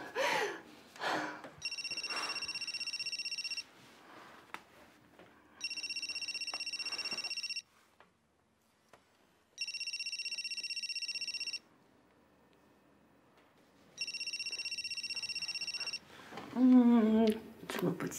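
A telephone rings in four separate long bursts with short silent gaps between them, and a voice is heard briefly at the end.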